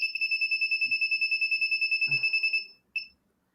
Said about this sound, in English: Alarm anyone?